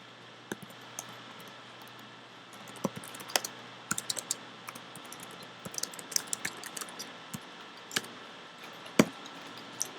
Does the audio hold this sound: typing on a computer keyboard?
yes